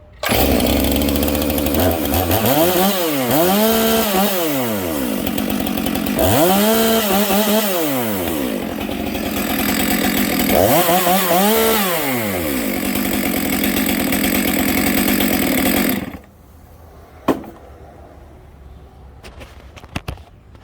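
A STIHL MS 462 chainsaw with M-Tronic, newly rebuilt, revving loudly near the mic in three rising-and-falling bursts over a steady high idle, then cutting off abruptly into near silence with a few faint clicks.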